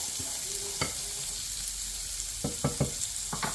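Celery sizzles steadily in a hot pan with a close, even hiss, punctuated by several sharp knocks and scrapes of a utensil stirring the pieces.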